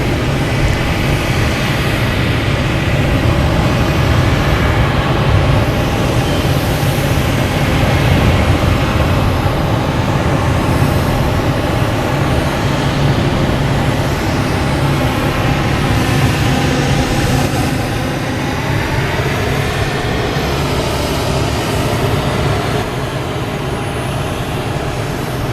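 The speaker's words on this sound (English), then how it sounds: "we have a Delta heading to Amsterdam" Delta jet airliner departing Boston Logan runway 15 right for Amsterdam: a loud, sustained roar of jet engines spooling up and rolling down the runway, steady throughout with a slight fade toward the end, no talking.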